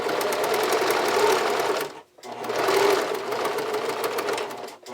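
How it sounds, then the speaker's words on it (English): A domestic sewing machine runs a small, narrow zigzag stitch through stretch underwear fabric, a steady close mechanical whir in two bursts with a brief pause between them. "So if you are using a zigzag stitch or another stretch stitch, just make sure it's a very small stitch."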